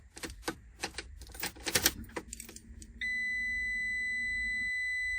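Keys rattle and click, then a Ram ProMaster van's fuel pump primes with a steady faint electric hum and a thin high whine that holds.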